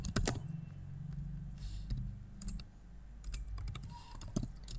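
Keys clatter on a computer keyboard in uneven bursts of close, crisp clicks against a low background hum, with no one speaking.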